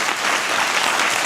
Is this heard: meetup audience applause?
yes